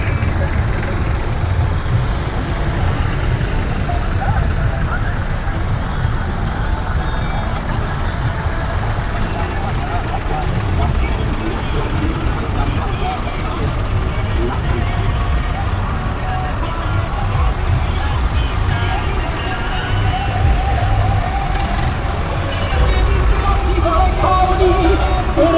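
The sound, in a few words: convoy of tractors driving off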